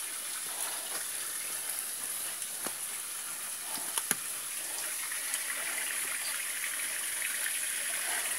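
Natural water runs and trickles inside a cave as a steady, close, hissing wash, joined by a couple of faint drips or taps and no talking.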